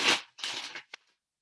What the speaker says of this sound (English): The reason I'm shuffling down here is it's too loud when I shuffle on the table.